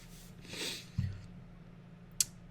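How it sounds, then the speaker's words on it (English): Someone blowing their nose during a mobile baseball game commentary: a broad snuffling burst of air through the nose, then a short sharp snort about a second later, close and fairly loud, with no talk over it. "Blow my nose real quick."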